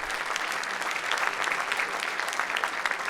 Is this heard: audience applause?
yes